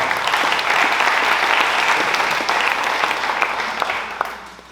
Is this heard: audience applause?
yes